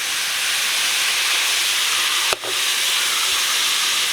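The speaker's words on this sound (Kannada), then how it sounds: "ಚರ್ಬಿ ಚೆನ್ನಾಗಿ ಎಣ್ಣೆ ಬಿಟ್ಕೊಂಡೈತೆ" Mutton fat sizzling in a hot pan as it renders oil, a steady bright hiss throughout with one brief clatter midway.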